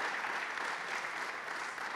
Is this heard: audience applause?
yes